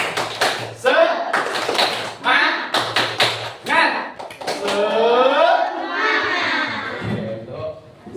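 Indonesian classroom 'tepuk semangat' clapping chant, with rhythmic bursts of claps interleaved with chanted voices of a class, loud and close, continuing throughout.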